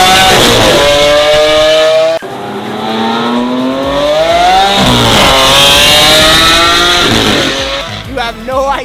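A Lamborghini supercar pulls away at a crowded supercar meet, its exhaust roaring loud and close as the engine revs climb through several gear changes, with crowd noise around it.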